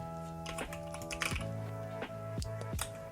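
Fingers type on a computer keyboard while entering text into a task-management app, giving a quick run of soft, close key clicks in an irregular rhythm over a faint, steady background hum, with no voices.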